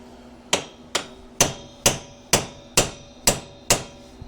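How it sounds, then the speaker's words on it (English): Eight sharp, evenly spaced hammer blows with a regular hand hammer on a 2002 Polaris Sportsman 400 front axle during axle removal, each metallic strike ringing briefly before the next, loud and close with no talking. "we're going to try to go at this with a regular hammer and kind of see what happens"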